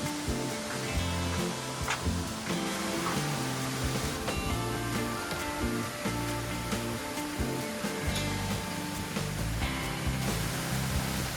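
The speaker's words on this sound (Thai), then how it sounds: "ตอนนี้ผมก็มาถึง ตรงน้ำตกผาพึ่งแล้วนะครับ" Water pours at Pha Phueng waterfall in Phu Pha Yon National Park, Sakon Nakhon, a steady broadband rushing roar that stays fairly even and moderately loud throughout.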